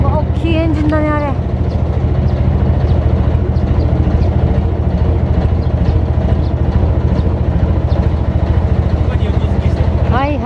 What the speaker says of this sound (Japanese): 大きいエンジンだね、あれ。